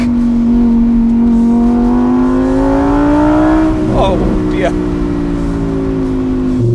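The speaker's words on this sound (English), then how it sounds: "A crisp early morning on empty roads in Rajasthan with a V10 engine singing behind your ear." A V10 supercar engine revs high close by on an open road, its pitch climbing steadily then easing off, with a brief voice cutting in partway through.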